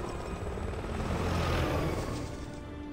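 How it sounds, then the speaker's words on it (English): Helicopter from the video game Resident Evil 6, a steady loud rotor-and-engine drone filling the whole stretch with no speech. "Like the helicopter that was just shooting at us."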